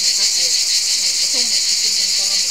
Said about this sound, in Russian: Большая часть дороги проходит под пение цикад